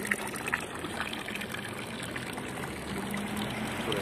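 Water gushes steadily from the mouth of a creature in a video game, a continuous trickling pour running on with no talk over it.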